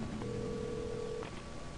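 A telephone rings in the video game Alan Wake: a single steady electronic ring tone lasting about a second, clear over a quiet hum of game ambience.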